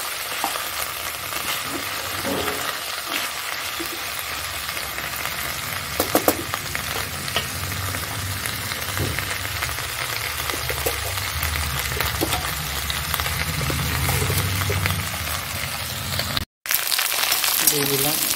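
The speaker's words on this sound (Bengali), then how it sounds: "এই টমেটোটা দিয়ে দিচ্ছি।" A tomato goes into a hot pan and fries with a steady, close sizzle and crackle that lasts throughout, broken by stirring scrapes, with a brief cut near the end.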